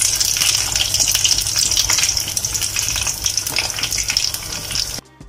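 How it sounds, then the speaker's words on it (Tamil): Soya chunk patties deep fry in hot oil, a dense loud bubbling hiss with crackling spatters that runs steadily up close and breaks off abruptly near the end. "அடுத்ததான் நம்ம தட்டி வச்சிருக்க சோயா பட்டியெல்லாம் ஃப்ரை பண்ணி எடுத்துக்கலாம்"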